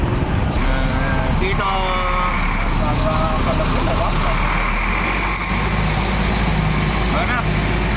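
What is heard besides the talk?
heavy road traffic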